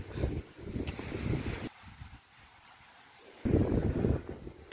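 Gusty autumn wind at a seaside beach on the Crimean coast near Sevastopol, buffeting the microphone in loud bursts that drop away briefly before roaring back, with faint surf beneath.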